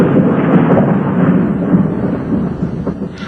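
Thunder from lightning rumbles in a deep, loud, continuous roll that slowly fades over a few seconds, with no voices.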